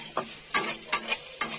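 Vegetable bhujia being stir-fried in a pan, with a few scraping stirs of a spatula against the metal over a soft, steady sizzle, close by and with no voices.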